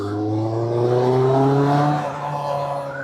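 A Suzuki Bandit 600 GSF motorcycle engine pulls hard through the gears, its exhaust note rising in pitch with a steady harmonic drone, loud and close throughout, with no talking.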